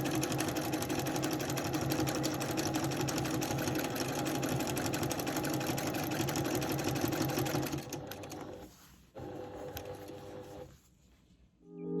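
A sewing machine runs steadily through free-motion quilting of a piano keys block with a Westalee ruler, a dense, even whir that holds for about eight seconds before stopping abruptly, followed by a few softer handling sounds.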